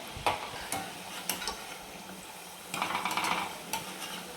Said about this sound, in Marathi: आपण छान छोटे छोटे असे भजी सोडून घेणार आहे